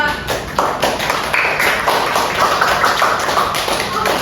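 Classroom applause for a student named Dea during a microteaching lesson, a burst of fairly close hand clapping with uneven taps from a small group, and voices murmuring underneath.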